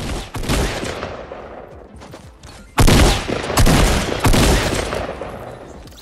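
Loud gunfire from a Fortnite Battle Royale match: dense bursts of rapid shots with heavy booming impacts, pausing briefly and then returning with several more close, intense volleys.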